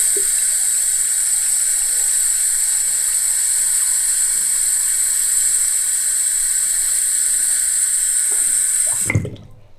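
Running water fills a household drain trap in a steady, loud, hissing stream, like a tap pouring into a sink, which cuts off abruptly near the end, leaving a brief quiet tail.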